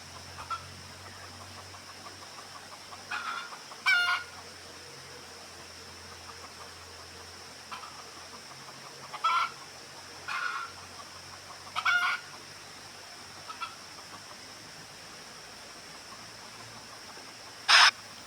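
Chickens clucking in short scattered bursts near a river, faint and spaced out, over a steady background hiss of flowing water.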